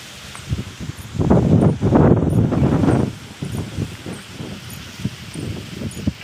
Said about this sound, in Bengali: কিরকম হাওয়া দিচ্ছে।